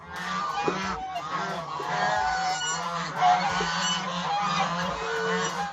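A goose on a farm honks repeatedly in loud, harsh, nasal calls, close by, with a few overlapping bursts and no talking.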